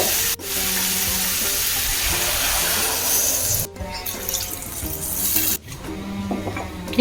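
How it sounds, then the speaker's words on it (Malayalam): Water is poured into a hot pan of pav bhaji vegetables, giving a loud, continuous sizzle and bubbling hiss with scraping stir sounds and two brief dropouts, no voices. "ഇതിലേക്ക് നമുക്ക് ആവശ്യത്തിന് വെള്ളം ഒഴിക്കാം"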